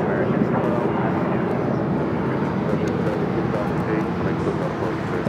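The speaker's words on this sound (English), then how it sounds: "Dreamliner coming in from Tokyo Narita, flight 33, a 787-9 Dreamliner heading over to Terminal 7" A Boeing 787-9 Dreamliner arriving from Tokyo Narita on EVA Air flight 33 at Los Angeles International Airport produces a steady, broad jet roar throughout, heard at moderate distance.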